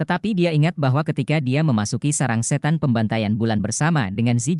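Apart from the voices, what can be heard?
No everyday noises stand out.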